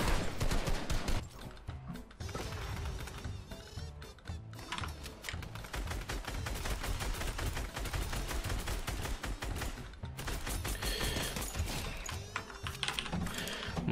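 Rapid, continuous gunfire in the Fortnite Battle Royale video game, dense bursts of shots hammering almost nonstop at close range and loud throughout, with brief dips between volleys.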